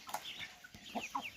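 A household rooster calls out near the house in a few short, close, fairly quiet bursts with brief pauses between them, and nothing else heard around them.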